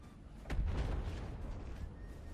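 A single heavy, slow-firing gun in the vehicle-building game From The Depths booms once with a deep, rumbling report that lingers and fades.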